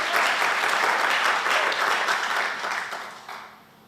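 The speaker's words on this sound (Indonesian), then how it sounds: "Beri tepuk tangan dulu untuk Tuhan kita" A church congregation applauds at a Sunday worship service, dense clapping rising quickly and holding steady before fading out toward the end, fairly loud and with no talking over it.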